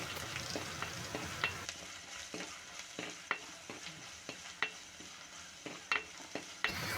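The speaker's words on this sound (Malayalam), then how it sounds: "അതിലേക്ക് കുറച്ച് കരിവേപ്പില ഒരു പച്ചമുളക് കീറിയത് അതൊന്ന് മൂത്ത് വരുമ്പോഴത്തേക്കും" Curry leaves and a slit green chili fry in oil in a pan, producing a steady faint sizzle punctuated by regular sharp spatula scrapes and taps, close and alone without talk.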